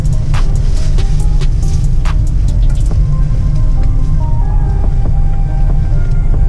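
A delivery van's engine idles and churns low and loud while the vehicle turns around in a narrow road in Swindon, with some clicking and rattling early on, steady rumble throughout.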